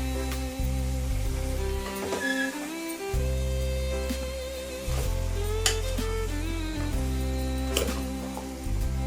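Goat head curry frying in a pan at home while being stirred, steady sizzling with repeated scraping and clinking of a spoon against the pan, close and continuous under a low background hum.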